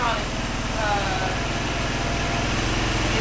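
Small GY6 scooter engine idling after a carburetor adjustment, a steady, fairly loud buzzing putter with raised RPM that runs continuously through the clip under a broad layer of noise.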